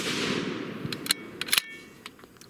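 A custom 6.5 Creedmoor rifle firing a Hornady 100-grain ELD-VT handload over 41.5 grains of Reloader 15 gives one loud, close blast that decays quickly, followed by small clicks and taps.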